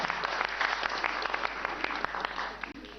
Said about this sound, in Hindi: तालियां जोरों से बजा सकते हैं इस परफॉर्मेंस के लिए आप